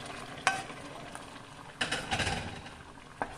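Fresh tomatoes drop into a pan of frying garlic for marinara sauce, a steady sizzle rising into a louder splash and crackle, with a few sharp clinks of a utensil against the pan.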